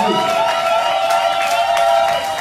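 A church congregation applauds and cheers to welcome an apostle to the front, a dense, steady wash of clapping and voices that stays loud and unbroken throughout.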